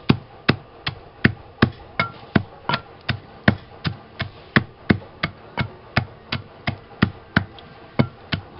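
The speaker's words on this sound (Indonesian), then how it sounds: "Ini kita tumbuk, kita haluskan. Kalau bisa sampai seperti tepung." Charcoal is pounded into fine powder with about nineteen sharp, evenly spaced thuds at a steady rhythm of roughly two strikes per second, close by and with no talk.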